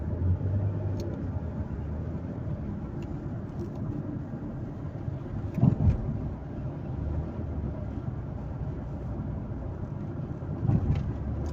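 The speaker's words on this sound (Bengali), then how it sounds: "রাস্তাঘাটে হেভি যানজট, গাড়ি চালানোর মতোই নেই" Heavy road traffic heard from inside a vehicle driving into Kuwait City, a continuous low rumble of engines and tyres with a few brief louder thumps and swells.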